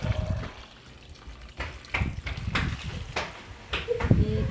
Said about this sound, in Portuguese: Deixa eu molhar as plantinhas aqui.